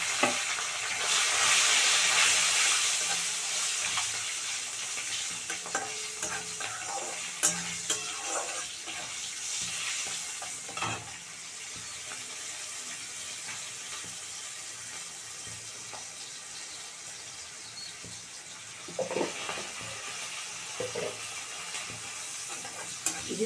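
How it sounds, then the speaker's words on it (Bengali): Green chili and cumin frying in a pan before ridge gourd goes in, a steady sizzle with scattered spatters and occasional stirring scrapes, moderately loud throughout with no talking. "এবার দিয়ে দেবো কাঁচা লঙ্কাটা।"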